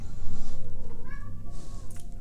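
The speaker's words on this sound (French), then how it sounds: "j'entends la complainte du chat malheureux." A cat meows plaintively in a couple of drawn-out, rising and falling cries, fairly close and clear over a low steady background hum.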